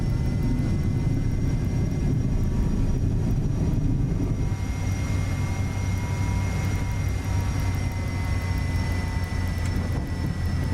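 Airliner engines at takeoff power in Microsoft Flight Simulator 2024, a loud steady roar with a deep rumble and high whining tones that holds throughout and strengthens slightly partway through.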